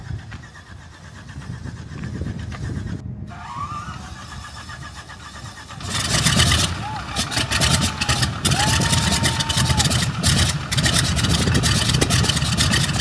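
Jackie Cochran's Beech 18 aircraft, parked outside a museum, runs its engines in an engine test. A low background rumble swells into a loud, steady, rough roar after several seconds and holds to the end.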